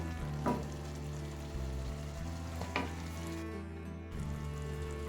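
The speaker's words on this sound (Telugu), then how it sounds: "ఇక్కడ నేను ఎగ్స్ వేసుకున్నాను ఇక్కడ నేను ఫైవ్ ఎగ్స్ తీసుకున్నాను" Eggs frying in a pan for a ridge gourd egg curry, a steady close sizzle throughout with a couple of brief stirring scrapes and no speech.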